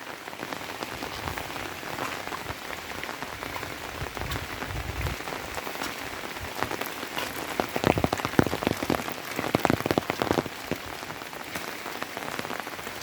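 Steady rain pours over a hillside coffee plantation with paddy fields below, a dense continuous patter of drops that swells into heavier bursts partway through, with no voices.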